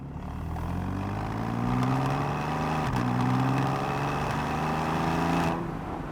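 Porsche Boxster 981 GTS mid-mounted engine pulling hard under acceleration, a steady rising drone with climbing harmonics, a brief dip near the middle as it shifts, then building again before easing off near the end; no talking.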